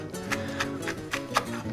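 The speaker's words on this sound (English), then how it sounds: "And now some spring onions, and I'm just going to thinly slice these." Knife thinly slicing spring onions on a chopping board, five evenly spaced crisp taps close by in a steady rhythm with a soft low background hum.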